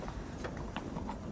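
A horse's hooves clop softly on the ground as a rider gets down, a few faint, irregular steps close by against quiet background.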